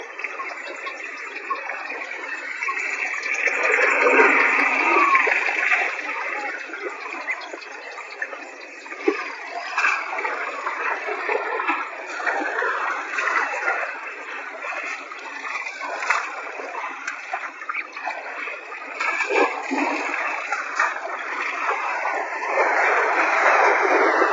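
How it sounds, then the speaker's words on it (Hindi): Young elephants splashing and drinking at a waterhole in Addo Elephant National Park, continuous sloshing and spattering water at moderate level, varying in intensity. "नन्हे हाथी सबसे ज्यादा पानी में उतरने के लिए उत्सुक होते हैं और पानी पीने से पहले खुद को अच्छे से गीला कर लेते हैं"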